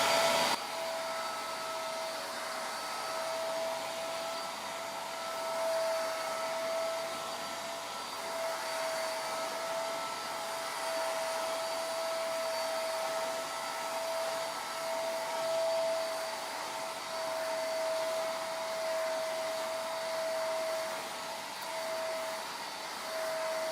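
A LIDL Parkside wet and dry vacuum cleaner runs steadily and alone at close range, a constant motor whine with a sharp tonal hum holding level throughout.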